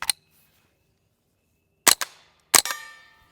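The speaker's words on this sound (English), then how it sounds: "It's one of the quietest setup in a semi-automatic 22 I have ever heard." Three suppressed shots from a semi-automatic .22 rifle with a Gemtech Integra suppressor firing CCI subsonic rounds, each a sharp quiet crack followed by a short echo, widely spaced and heard alone.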